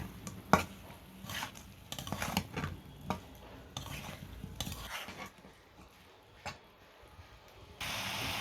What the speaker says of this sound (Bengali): আদা রসুন বাটা, সব মশলা আমার দেওয়া হয়ে গেল। ভালো করে কষিয়ে নিতে হবে।